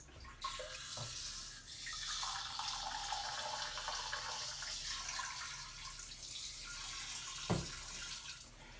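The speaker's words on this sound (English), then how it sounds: "I'm gonna pee a little bit and then catch it midstream." A person urinating into a cup, with a steady faint trickle of liquid that runs continuously for several seconds, close but quiet, with a couple of soft knocks and no speech.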